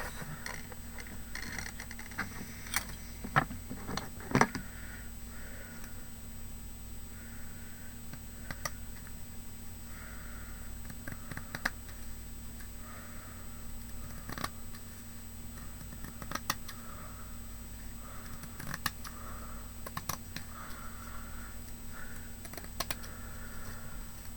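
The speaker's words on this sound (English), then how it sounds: "So I'm just going to go along the longest edge and just trim a bit off." Scissors trim burlap along its longest edge while it is held up for a Christmas wreath, giving quiet, scattered snips and clicks over a faint steady hum with no talking.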